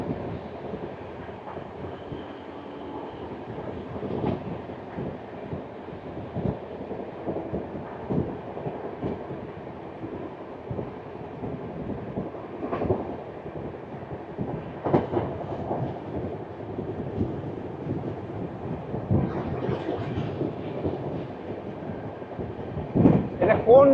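The Eastern Railway 12337 Shantiniketan Express running near Bolpur, heard as a steady rumble with repeated clacking wheel beats throughout, recorded from on board.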